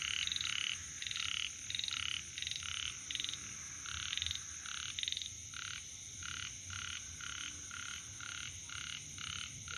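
Male and female frogs croak steadily in a forest at night, a dense rhythmic chorus of repeated pulsing calls over a constant high insect drone, moderately near with no voices.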